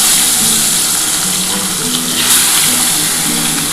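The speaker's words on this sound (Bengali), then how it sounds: "এবার আমি মাছগুলো ভেজে নিচ্ছি।" Tilapia fish fry in hot oil with a loud, steady, continuous sizzle and crackle that fills the whole stretch.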